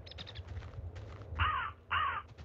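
Birds in the Minecraft Tekkit modpack caw twice in harsh, rasping calls, loud and close, over a soft background of game ambience and faint clicks.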